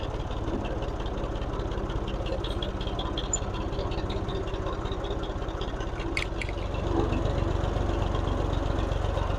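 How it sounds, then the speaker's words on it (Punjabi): A tractor with a cart hitched behind idles in a village farm setting; a steady low, rattling engine rumble continues throughout at moderate distance, with no one speaking. "ਅਸੀਂ ਟਰੈਕਟਰ ਦੇ ਪਿੱਛੇ ਰੇੜੀ ਲਗਾਈ ਹੋਈ ਹੈ"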